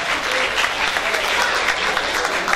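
Dense, sustained applause from a crowd at a wedding, steady and loud throughout with no break.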